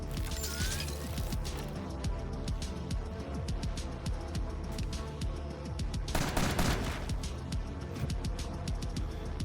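Video game enemy gunfire rattles in rapid bursts throughout, with a louder, denser volley about two thirds of the way in, set over a steady mechanical game soundscape. No voices.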